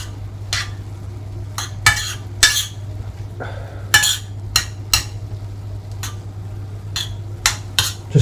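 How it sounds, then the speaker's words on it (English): A utensil scrapes and clinks against a pan as flour is slowly stirred into the meat juices. The strokes are sharp and irregular over a low steady hum, with no talking. "you just very slowly just mix the flour in"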